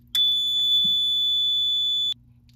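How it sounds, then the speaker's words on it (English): Fire-Lite MS-4424B fire alarm control panel during a system reset: a single loud, steady, high-pitched electronic tone that holds for about two seconds and then cuts off abruptly, over a quiet background hum. "I'm going to hit system reset."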